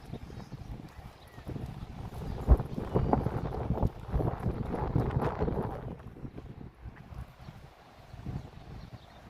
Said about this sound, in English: You can hear the breeze, can't you? It's windy,